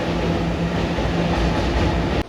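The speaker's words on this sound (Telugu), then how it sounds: "ట్రైన్ ఏమో ఈ ట్రాక్ మీద వస్తుంది అనుకుంటే" Train running along the railway track, a loud continuous rumble with rhythmic wheel clatter close by, cutting off abruptly at the end.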